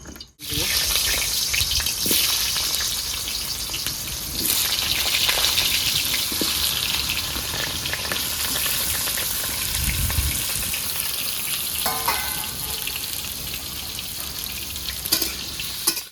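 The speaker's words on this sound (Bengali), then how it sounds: "তো বন্ধুরা আলুটা আমার প্রায় ভাজা হয়ে গেছে" Potatoes frying in mustard oil in a kadai, a steady loud sizzle running throughout with occasional stirring scrapes near the end.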